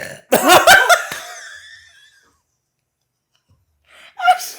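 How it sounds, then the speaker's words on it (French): A loud, throaty burp from a man who has been drinking water and iced tea during a spicy hot-wing podcast, close and about a second long, then near silence before a shorter second burst. "Là, j'ai un autre rot, je pense, parce que je bois trop."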